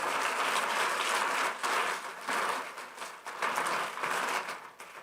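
A church congregation claps in strong, sustained applause that swells and dips in several waves over about five seconds, with no talking over it.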